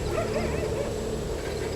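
Street dogs bark and whine as a sound effect in an animated horror story, a steady mix of yelps and cries at moderate level with no speech.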